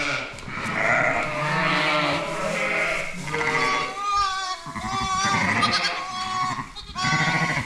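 Sheep and newborn lambs bleating on a farm during lambing season, several overlapping calls close by, some long wavering cries and shorter bleats in quick succession with brief pauses between.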